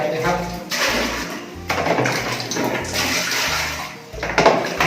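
Water is poured into a bathroom drain treated for bad odor, producing a steady close gurgling splash and rushing flow with brief knocks, while someone talks over it.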